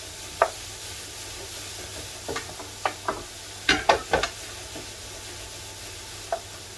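A spoon stirs onions frying in a pan for coq au vin, giving a few short scraping clicks in clusters over a faint, steady sizzle at medium heat.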